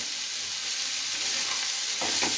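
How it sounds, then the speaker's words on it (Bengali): Chicken and vegetables stirred in a pan over steady sizzling heat, a close, continuous hiss of frying with scraping stirs of a spatula toward the end, no voices. "খুব ভালো করে এটাকে নাড়াচাড়া করে নিচ্ছি চিকেনের সঙ্গে সবজিগুলোকে খুব ভালো করে মিশিয়ে নিচ্ছি"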